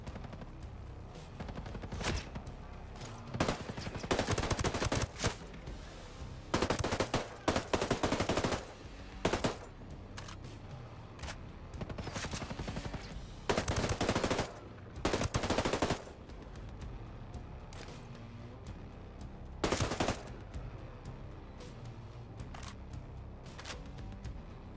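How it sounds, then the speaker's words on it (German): Loud bursts of unsuppressed automatic gunfire in a video game, repeated volleys, some long and rapid, others short, separated by brief quieter gaps, with no talking. "jetzt sind die Schüsse besser"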